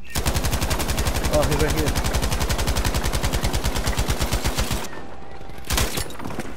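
Rapid automatic machine-gun fire in a video game, a loud, steady stream of shots running for several seconds before stopping, followed by one more brief burst, with a player speaking briefly over it.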